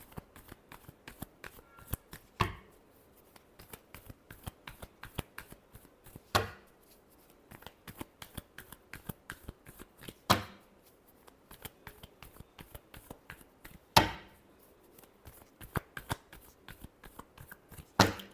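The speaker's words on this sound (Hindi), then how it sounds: "last shuffle" Tarot cards shuffled repeatedly in a steady riffling patter, with a louder sharp card slap or bridge roughly every four seconds, close and clear with no talking.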